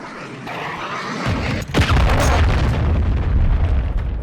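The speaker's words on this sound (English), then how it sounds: "Hostile cruise missile incoming" A cruise missile strike in Modern Warfare 2 lands as a heavy, loud explosion that booms suddenly and rolls on in a long rumbling roar with crackling debris.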